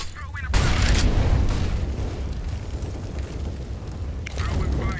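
Flashbang grenade detonating in Counter-Strike at a Dallas Major grand final match, a sudden loud burst that swells into a sustained blast and ringing wash, followed by another sharp burst near the end, with voices present.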